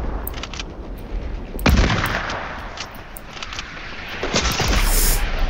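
Rocket launcher blasts in Fortnite: two sharp, loud booming impacts with low rumbling tails, set against a steady background of game noise and scattered shots.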